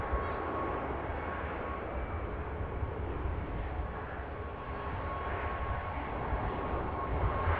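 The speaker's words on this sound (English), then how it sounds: "There's the Ryanair Max over on 23 left departs" A Ryanair Boeing 737 MAX departs runway 23L at Manchester Airport, its continuous jet rumble steady and moderately distant throughout, with faint background noise and no clear talk.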